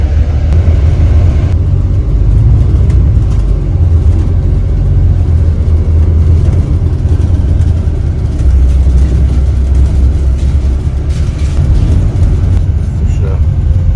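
Bus engine rumbling steadily from the upper deck, a loud continuous low drone with shifting revs throughout, no voices over it.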